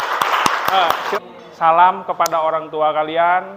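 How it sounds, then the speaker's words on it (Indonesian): A classroom of students claps in a brief burst of sharp, scattered hand claps at the start, then a teacher's voice speaks clearly over quiet. "Oke, tepuk tangan buat Adrian dan kita semua."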